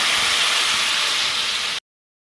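A steady, loud hiss and sizzle as boiling water from the boil-off goes into a frying pan of sautéed spices for Bengali fish curry, cutting off abruptly.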